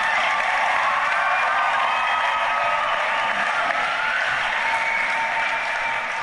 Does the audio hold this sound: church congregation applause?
yes